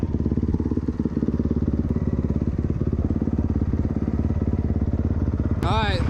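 A dirt bike engine running steadily with a fast, even pulsing putter, close and loud throughout, with a brief higher whine near the end. A voice speaks faintly over it.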